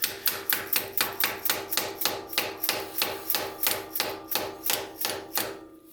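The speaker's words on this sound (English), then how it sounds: "I'm going to gently tap it in with a hammer." Steady series of sharp hammer taps, about three per second, close and clear with no talking, slowing and fading at the end.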